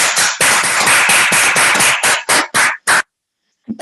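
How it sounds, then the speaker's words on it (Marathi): An audience at a DXN opportunity meeting claps loudly in quick, rhythmic bursts of sharp claps that break into separate volleys and stop abruptly near the end. "तर खरंच जोरात टाळ्या वाजवा यांच्यासाठी."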